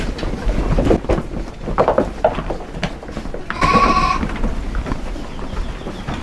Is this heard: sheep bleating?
yes